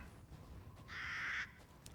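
Crows cawing in the eerie village setting of the Resident Evil Village demo on PS5, one harsh call of about half a second standing out over a low ambient game soundscape.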